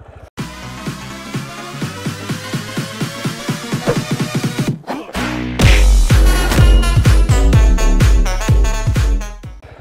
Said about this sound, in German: Also kurz zum Motorrad, wie schon gesagt, KTM Duke 690.